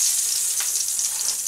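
Pork steaks sear in a frying pan with a steady, close hiss of hot fat crackling. The sizzle holds constant throughout, and there is no talk.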